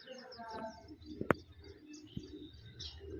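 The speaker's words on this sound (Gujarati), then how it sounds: "જેટલો બધા કબૂતરો આવ્યા છીએ જો આપણા ઘર પાછળ" Soft, faint bird sounds from pigeons gathered behind a village house, with a sharp knock partway through and low background noise.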